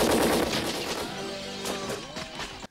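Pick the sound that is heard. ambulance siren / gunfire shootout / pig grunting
gunfire shootout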